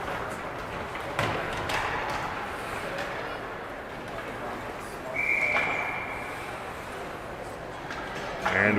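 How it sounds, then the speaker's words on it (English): A referee's whistle blows at a youth squirt ice hockey game in an arena, a single short tone near the middle of the clip, heard over steady crowd and rink noise. "And we get a whistle with 6:51 left."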